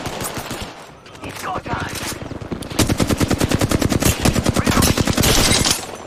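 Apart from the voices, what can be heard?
gunfire in a video game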